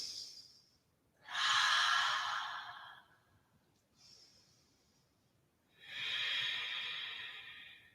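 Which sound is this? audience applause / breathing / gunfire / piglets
breathing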